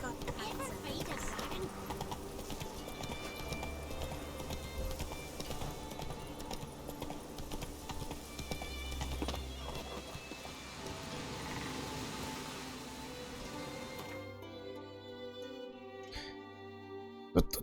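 In The Witcher 3, the horse Roach gallops with a continuous rhythmic clip-clop of hooves under ambient game sound and faint patter that may be rain, ending abruptly with a couple of isolated sharp clicks.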